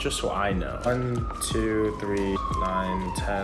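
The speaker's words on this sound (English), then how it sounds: "Sorry for the fire siren." Fire siren wailing outside, rising and falling in sweeping tones beneath a person counting aloud indoors.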